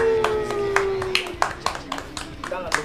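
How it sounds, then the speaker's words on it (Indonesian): Studio audience on a talk show claps to welcome a guest, a run of distinct separate claps growing more frequent toward the end, mixed with speech and a tone at the start. "Tangan, tepuk tangan."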